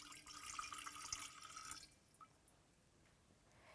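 Water poured from a drinking glass into a jug, a close trickling splash that runs steadily for about two seconds and then stops, leaving faint room noise.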